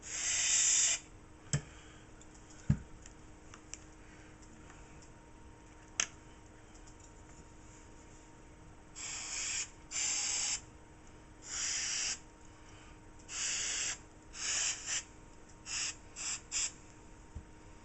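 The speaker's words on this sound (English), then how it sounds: "Now this is Rem oil in a spray." Several short hissing sprays of Rem gun oil from an aerosol can onto a revolver, close and distinct, coming in bursts separated by pauses over a quiet background with a few clicks.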